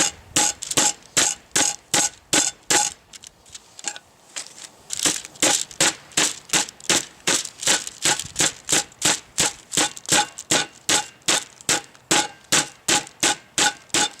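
A meat mallet pounds chicken breast through wax paper, striking in a fast, even rhythm of sharp, loud slaps with one short pause, close and alone with no talk.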